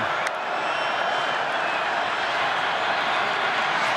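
Football stadium crowd at an Ohio State versus Northwestern college game, a steady broad roar of many voices swelling ahead of a critical fourth down, loud and continuous throughout.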